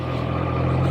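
A Triumph Trident 660 motorcycle engine runs loud and close, a steady low rumble with a firm tonal hum throughout and no clear rev swings.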